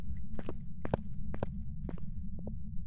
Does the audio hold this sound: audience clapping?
no